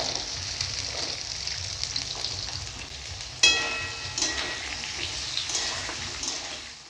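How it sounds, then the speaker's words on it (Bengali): Carrots and long beans fry in a pan with a continuous close sizzle and crackle of oil, and partway through a sharp louder burst of hissing marks food or stirring hitting the hot pan. "এবারে গাজরগুলো ভেজে নেব। সঙ্গে বরবটিগুলো দিয়ে দিব।"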